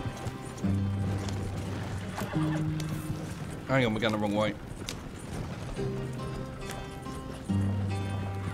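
Horses gallop in Red Dead Redemption 2, their steady clip-clop hoofbeats running under conversation and game music, with a brief whinny cutting through midway.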